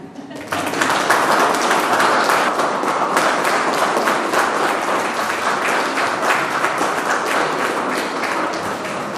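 Wedding guests applauding newlyweds at the ceremony: clapping bursts in abruptly and holds as a dense, lively wash for several seconds, with crisp individual claps standing out nearby.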